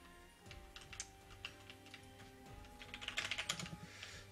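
Someone types on a computer keyboard, sending out soft, irregular clicks that quicken into a faster burst near the end, faint and close, over a quiet hum with a thin tone running beneath.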